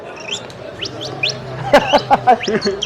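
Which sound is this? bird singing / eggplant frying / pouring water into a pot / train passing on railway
bird singing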